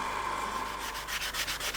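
Fine sandpaper is rubbed over a wooden alboka horn in a steady, soft, close scratchy hiss that turns into rhythmic back-and-forth strokes toward the end, quiet and with no voices.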